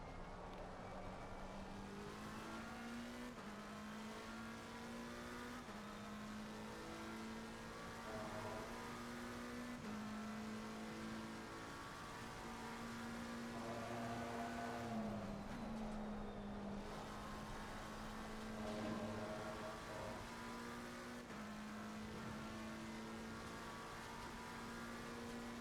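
A race car engine on a hot lap in a racing video game, holding a steady high drone with repeated shifts and small dips in pitch through corners, constant and fairly faint.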